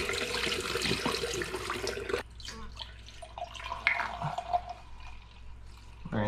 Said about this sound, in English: I could probably rinse this actually with some water first